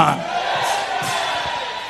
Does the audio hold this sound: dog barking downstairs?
no